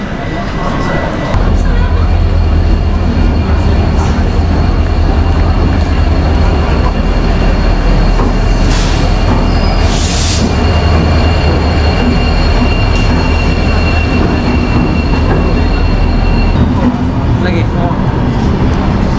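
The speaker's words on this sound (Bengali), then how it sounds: "তো আমার ট্রেন চলে এসছে, দনি পোলো এক্সপ্রেস।" Doni Polo Express rolls into Guwahati station with a loud, steady low rumble of wheels and carriages, brief high squeals rising over it midway, and people talking in the busy platform background.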